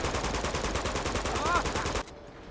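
Rapid automatic gunfire in Uncharted 2, a loud, steady burst of evenly spaced shots lasting about two seconds before cutting off abruptly to quieter game ambience.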